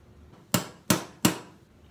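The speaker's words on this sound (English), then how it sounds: "and I just hammer it through" Three sharp wooden knocks from a hammer driving a wooden peg through a Shaker nightstand carcass, evenly spaced about a third of a second apart, close and fairly loud with quiet between.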